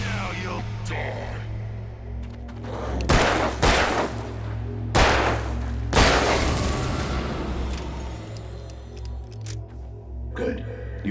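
Gunshots in the video game Alan Wake, a handful of loud individual blasts spread over several seconds with ringing tails, set against a steady low game ambience.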